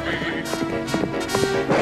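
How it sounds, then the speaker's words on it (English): Horse hooves clop rhythmically in a quick series of hits in a comedy show, mixed with a tonal hum and other busy background sounds. "I'd recognize the sound of those hoofbeats anywhere"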